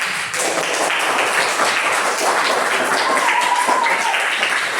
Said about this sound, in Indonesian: Beri tepuk tangan ke kelompok.